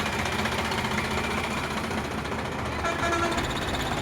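A Sonalika DI 745 RX tractor idles nearby with a steady, moderately quiet engine rumble and broadband noise that runs unbroken for about four seconds, with no voices over it.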